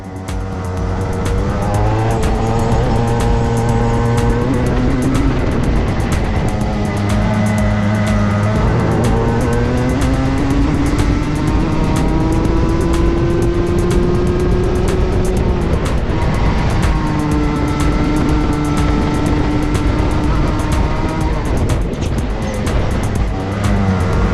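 A racing go-kart engine at Daytona Sandown Park drones loudly and continuously, its pitch rising and falling through acceleration and braking, with faint tyre scrubbing and no talk.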